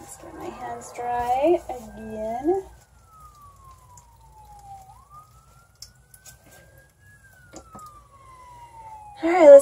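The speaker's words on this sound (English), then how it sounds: "That is probably an ambulance." Ambulance siren passing outdoors, a single wailing tone that sweeps slowly down, back up and down again, fairly faint and distant, with talking before it and briefly at the end.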